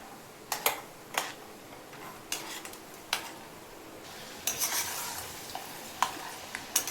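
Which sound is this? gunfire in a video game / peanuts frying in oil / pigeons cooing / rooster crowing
peanuts frying in oil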